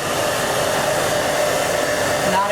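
A salon blow dryer runs steadily and loudly at close range during a Brazilian Blowout hair styling session, a continuous whooshing roar with no pauses.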